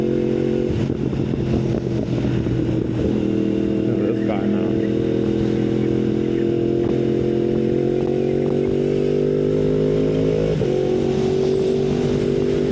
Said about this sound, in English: Yo, that backfire, this is insane.